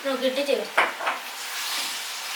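Raw pineapple curry is stirred in a pan with salt added, a few scraping strokes over a soft steady sizzle that continues alone and fairly close.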